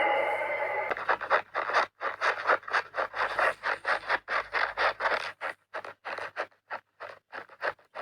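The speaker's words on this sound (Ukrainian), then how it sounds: "Сніг рипить." Footsteps crunch and creak through snow in a steady walking rhythm of short, dry, squeaky bursts, close and fairly quiet, after a brief windy hiss at the start.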